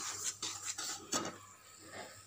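Flour being stirred and roasted in ghee in a pan while making sukhadi: soft scraping and clinks of a spoon against the pan in a few brief strokes, fairly quiet and close, with no talk.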